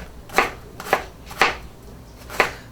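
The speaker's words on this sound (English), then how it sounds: "I'm gonna go ahead and start chopping up the onion" Four crisp knife chops land on a cutting board while chopping an onion, at an uneven pace, each a short sharp knock with quiet pauses between.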